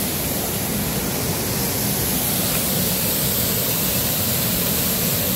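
Yongchu waterfall in a rocky gorge roars as a loud, steady, unbroken wash of falling water, with no talking over it.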